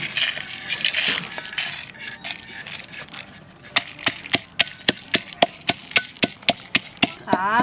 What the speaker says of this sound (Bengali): ভাজা মশলাটা আমি একটু কুটে নেব